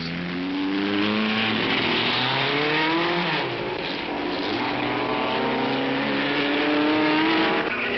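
A 1958 Formula One racing car engine at Spa-Francorchamps in Belgium, a loud continuous howl with rising and falling pitch as it accelerates and shifts, heard alone and close for the whole stretch.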